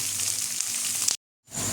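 Onions fry in hot oil with a dense, close sizzle that cuts off abruptly into a short silence and then resumes just as loudly.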